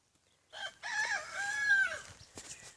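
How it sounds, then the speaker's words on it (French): A single loud, drawn-out crow-like bird call rings out close by in a vegetable garden, standing alone against a quiet background. "Oh les oiseaux, hein, les oiseaux, comment qu'ils ils viennent manger les petits vers là-dedans"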